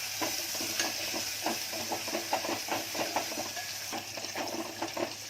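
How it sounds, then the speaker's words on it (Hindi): Spices with asafoetida being fried in a pan for dal, a steady crackling sizzle broken by repeated scraping stir strokes, close and moderately loud, with no speech. "अब इस सभी मसालों को एक साथ भून लूंगी।"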